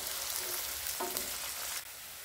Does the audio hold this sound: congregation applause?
no